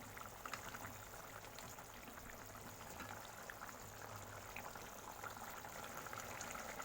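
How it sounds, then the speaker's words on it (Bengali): A pot of tel potol curry boils, a faint steady bubbling and hiss with soft popping throughout and no talking. "কি সুন্দর ফুটতে শুরু করেছে।"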